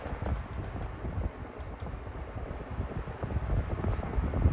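A Vornado or Lasko fan running at its second-lowest speed setting, giving a steady, broad whooshing rush of air with a low rumble underneath, continuous and close to the microphone.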